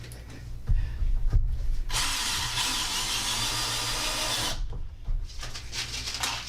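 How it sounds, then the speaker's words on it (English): A power drill drives screws into wood on a model layout expansion, whirring loudly for a few seconds after some knocks and handling, then stopping as quieter clatter follows. "Let me screw those two in."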